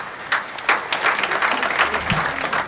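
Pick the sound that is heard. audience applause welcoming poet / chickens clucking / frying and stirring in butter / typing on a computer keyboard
audience applause welcoming poet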